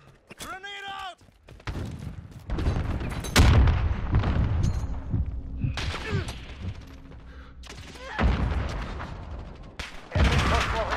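Grenade blast and gunfire in Call of Duty Modern Warfare beta multiplayer, with loud booms and bursts of shots in several clusters, over game voice callouts and effects.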